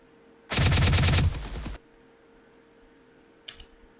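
Burst of rapid automatic gunfire from an NPC in an Unreal Engine third-person shooter game, loud for about a second then trailing off, followed by a few faint scattered shots.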